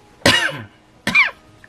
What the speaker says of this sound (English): I was trying to suppress that cough